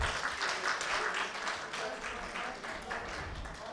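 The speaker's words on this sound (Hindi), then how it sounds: "उनके सम्मान में ज़ोरदार तालियां।" Audience applause at a Hindi/Urdu poetry recital (kavi sammelan / mushaira), a steady wash of clapping hands from a seated crowd lasting the whole moment, fairly even in level with a faint murmur beneath.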